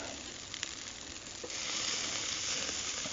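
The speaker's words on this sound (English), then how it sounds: "As you can see, I'm cooking some steaks." Steaks sizzle steadily in a hot pan, a continuous close crackling hiss that swells louder partway through, with no talking.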